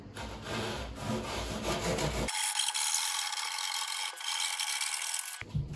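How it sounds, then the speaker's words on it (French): A hand saw rasps steadily back and forth through plasterboard, close up, with a short scraping stretch before the main cut. "tu m'as vu utiliser une scie comme ça, tu vois, c'est une scie pour découper le placo"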